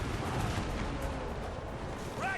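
Rolling volleys of troop gunfire in the battle strategy game Total War: Warhammer 2, a dense, muffled crackle of massed shots rumbling steadily at a distance without pause.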